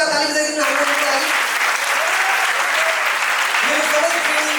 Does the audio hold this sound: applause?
yes